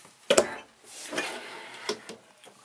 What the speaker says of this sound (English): Full extending ball bearing drawer guides.